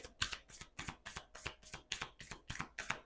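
Tarot cards being shuffled for a reading, heard close and clear as a quick, even run of riffling bursts, about ten in a row with steady rhythm and no voices.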